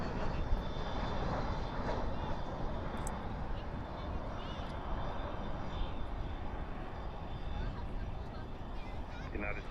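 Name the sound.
Airbus A321 landing at Dallas/Fort Worth airport, reversers out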